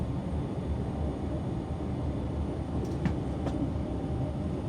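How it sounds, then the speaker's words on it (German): A first-class intercity train pulling into Athens main station gives a steady low rumble of wheels and carriage noise with a couple of faint high squeals, heard from inside the car with no talking. "Einfahrt in Athen Hauptbahnhof."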